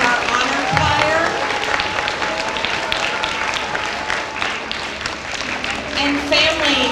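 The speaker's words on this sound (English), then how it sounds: "let's give one last round of applause to our 4th grade students and our honor choir" Audience applause for a fourth grade class and honor choir at a school Veterans Day assembly, a steady, dense clapping from a large crowd lasting throughout, with a few faint voices mixed in.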